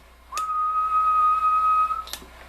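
A person whistles a single steady tone into the microphone of a Siltronix SLM 100 radio, held loud and clear for well over a second, bracketed by brief clicks.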